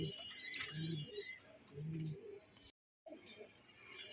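Ice or Damascene pigeons coo in a loft, two low soft coos about a second apart, fairly faint against background noise, then a brief dropout of sound.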